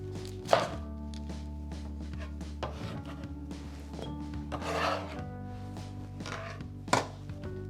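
A knife cuts down into a cabbage to remove its core, giving quiet rubbing and scraping with a couple of firmer thunks over a low background hum.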